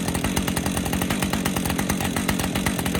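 A Husqvarna 550 XPG chainsaw runs steadily at high revs, close and loud, its rasping engine drone continuous and unbroken throughout with no talking.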